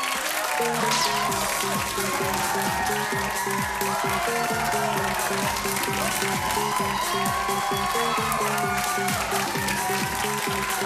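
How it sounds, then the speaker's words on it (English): Studio audience applause on a comedy talk show, steady clapping running under loud tonal music with a driving beat that dominates the mix. "That's respect, or people being forced to clap."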